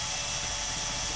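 A small power drill bores into the plastic housing of a Seek Thermal Reveal XR thermal camera, giving a steady, close high-pitched whine without any talk.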